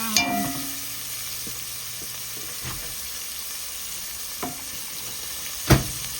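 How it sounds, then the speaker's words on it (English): Shrimp fry in a pan with a steady, faint sizzle, broken by a few light clinks and scrapes of stirring, with no talking. "Okay, so this is the shrimp. Now we fry it up a little."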